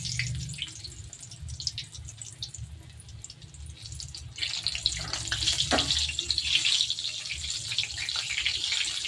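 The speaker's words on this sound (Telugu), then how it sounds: "నూనె వేడెక్కింది, వేస్తున్నాం" Chilli bajji batter drops into hot oil and bursts into a crackling sizzle that grows louder and busier, spattering steadily up close.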